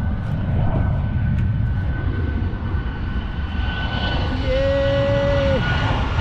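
Fixed-wing airplane engine throttling up for departure from the US Virgin Islands, a loud steady roar heard from nearby that builds gradually, with a faint tonal whine joining toward the end.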